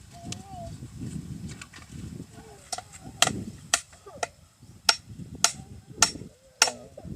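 Hammer blows while a fence gate is being built, a series of sharp metallic strikes that come at an irregular pace and grow stronger and more regular toward the end, with voices talking underneath.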